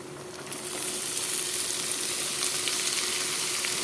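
Masoor dal frying with garlic in a pan, a steady bright sizzle that swells after the first half second and holds loud and even, close by, with no voices.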